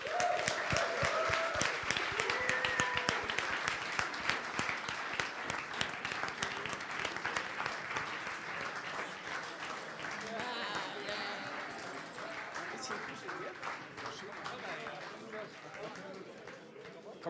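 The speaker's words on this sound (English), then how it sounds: "they deserve an additional round of applause" Applause for bootcamp app teams on stage: dense clapping from a crowd, strong at first and gradually thinning, with individual claps and some chatter mixed in.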